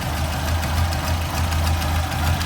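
A 1972 Ford Escort Mexico's engine idles under the open bonnet with a low, even burble, steady and close for a couple of seconds.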